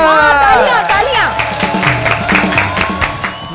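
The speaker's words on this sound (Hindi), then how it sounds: "हाँ, तालियां।" Studio audience on a comedy show breaks into applause and cheering, clapping rising under a voice and continuing as he speaks.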